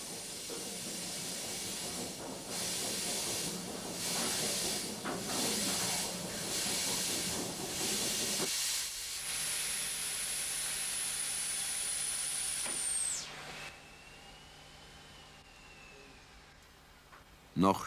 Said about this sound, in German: Dampf strömt in den rechten Zylinder, drückt den Kolben nach unten.